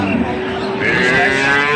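A cow lows loudly and close by at a busy cattle market, with a calf nearby, one drawn-out moo over a background of murmuring people.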